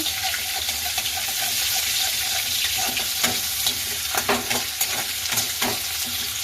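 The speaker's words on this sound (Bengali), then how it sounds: "পেঁয়াজ দিচ্ছি পেঁয়াজটা একটু নাড়াচাড়া করে" Onions frying in a pan for flattened-rice pulao hiss with a dense, steady sizzle, while a spatula stirs them with irregular scrapes and knocks, close and fairly loud.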